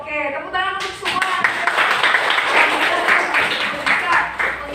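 A classroom of students bursts into a few seconds of brisk, dense hand clapping after a teacher's short remark, the applause close and steady before it tapers off.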